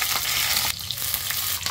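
Black pepper, cumin and green chillies fry in a hot pan, a loud crackling sizzle that drops briefly partway through as the spices are stirred, with no talk.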